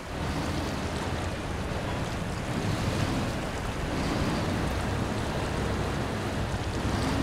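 Tractor wading through deep swamp water in SnowRunner, a dense continuous wash of sloshing water and rumbling engine noise, loud and steady throughout with no talk.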